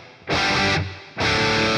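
Two loud distorted electric guitar chords strummed through a Katana amp with reverb, each ringing out before a brief dip, close and alone.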